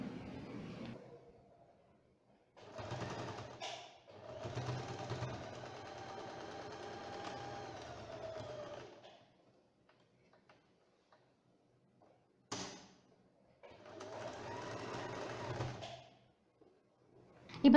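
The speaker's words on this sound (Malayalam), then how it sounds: "1/2 ഇഞ്ചിൽ നമുക്ക് സ്റ്റിച്ച് ചെയ്ത് കൊടുക്കാം" A sewing machine stitches a churidar boat-neck seam at half an inch, running in steady whirring bursts: a short one, then a long five-second run, then two more after a pause, with no talking.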